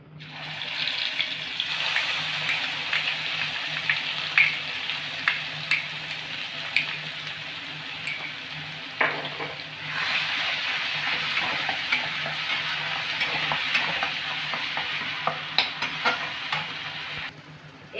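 A paste of ginger, chilli and coconut fries in a pan as a continuous close sizzle, with occasional stirring knocks and scrapes throughout.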